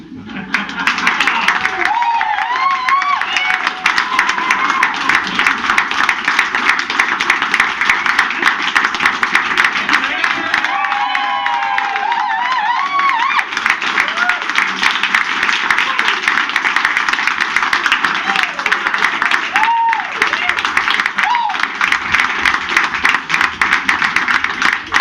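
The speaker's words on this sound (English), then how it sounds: "Thank you for being very generous with your applause and laughter." An audience claps steadily and loudly for a long stretch at a comedy show, dense applause running throughout with voices speaking over it.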